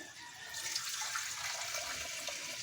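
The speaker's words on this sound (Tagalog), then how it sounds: "So lagyan lang natin ng sabaw." Broth splashes and trickles as it is poured into a pork chop kinamatisan stew with green peas, a faint, steady liquid pour lasting a couple of seconds with no voice.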